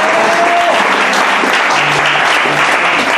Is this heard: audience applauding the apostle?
yes